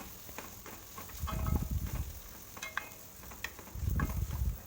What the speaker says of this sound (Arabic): وبعد كده ابدا اقلب بقى البصل مع الشعريه